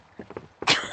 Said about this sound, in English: I'm coughing for the effect.